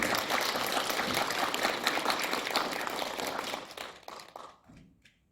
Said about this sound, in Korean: 여러분들을 위해서 큰 박수 부탁드리겠습니다.